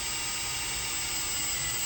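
A drill bores through a jar lid while making a liquid culture lid, a steady high-pitched whine running continuously throughout, close and unbroken.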